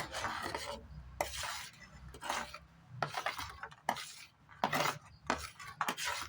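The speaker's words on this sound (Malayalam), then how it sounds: "നല്ലോണം മിക്സ് ചെയ്ത് കൊടുക്കുക." Spoon scraping and clinking against a bowl while kulfi mixture is stirred, irregular bursts of scraping strokes with short pauses, close by and moderately loud, no speech.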